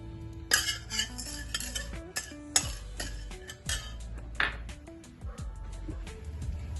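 Metal spoon scrapes and clinks against a pan as urad dal and chana dal are stirred and roasted in oil, with sharp irregular taps and scrapes over a low background hum.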